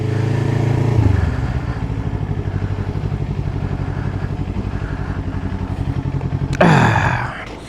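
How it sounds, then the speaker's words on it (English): A Kawasaki Ninja 400 engine putters unevenly as it decelerates under engine braking on small-town streets, then revs up sharply near the end before fading. "The engine braking on these things are absolutely insane."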